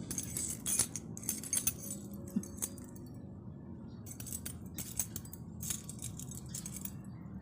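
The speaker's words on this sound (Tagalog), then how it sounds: "Akin na yung susi, Polly." Metal keys jangle and clink in short bursts, loud and close, with quieter rattling in between and no talk.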